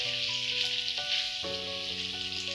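Chicken curry cooks covered in a pot over medium-high heat, giving off a steady, close sizzle, with faint tonal hums in the background.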